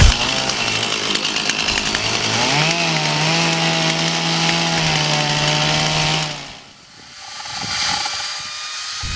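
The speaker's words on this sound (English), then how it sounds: "another option was sculpture art, chainsaw wood carving" A chainsaw carving wood for sculpture art roars loudly and steadily for about six seconds with its pitch rising once, then cuts off, leaving quieter ambient noise.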